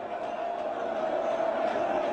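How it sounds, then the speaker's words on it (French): A large crowd of protesters gathers on the esplanade outside Hôtel Ivoire in Côte d'Ivoire, held back by French army barbed wire, their voices merging into a steady, continuous roar heard from a first-floor office. "La foule est de plus en plus compacte."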